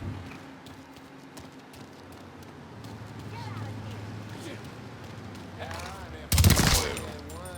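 A sharp burst of gunfire in the video game Mafia 3 crackles near the end, after a stretch of tense voices and background commotion.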